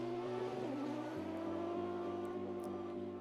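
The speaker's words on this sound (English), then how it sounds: "The wailing engine of the normally aspirated Audi A1 Quattro of Nathaniel Berton." Normally aspirated Audi A1 Quattro ice racer wailing at high revs, a steady sustained engine drone with slight pitch dips and gear-like steps, loud and continuous with no voices.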